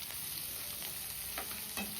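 Sliced onions fry in hot oil as the base for a Kannada brinjal curry, badanekayi ennegayi, giving a steady, close crackling sizzle with a few soft stirring scrapes and no talking.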